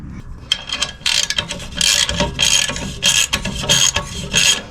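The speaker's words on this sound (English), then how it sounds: "I'm going to have to crank the heck out of it before it tightens" A ratchet wrench cranks an exhaust tip clamp tight in quick bursts of close, loud, rasping clicks, pausing briefly between strokes.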